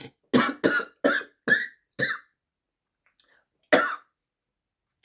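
A quick run of five sharp coughs, then a pause and one more cough, close and loud with silence between them.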